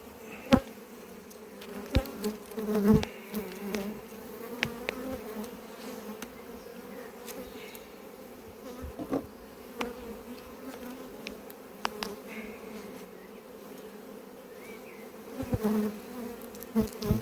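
Honeybees swarm around an open hive at an apiary, a continuous droning hum with individual bees zipping close by now and then.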